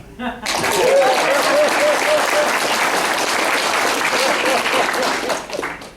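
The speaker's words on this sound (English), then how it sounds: "you will all start clapping right now" Audience at a stand-up comedy show bursting into loud, sustained applause mixed with some laughter and whoops, rising quickly after a brief pause and holding steady to the end.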